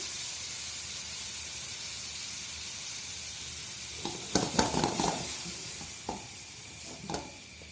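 Sugar with a spoonful of water caramelizing in a pan over low heat makes a soft, steady hiss, then a cluster of louder sizzling, stirring bursts arrives in the second half, followed by a few more brief spurts.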